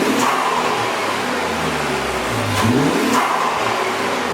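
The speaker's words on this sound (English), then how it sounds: "Eric's about to go inside the car and rev it up so you guys can hear the before and after" A stock Infiniti Q60 with the 3.0t twin-turbo engine revs hard and steady, its loud mid-range roar swelling and falling a couple of times with no voices over it.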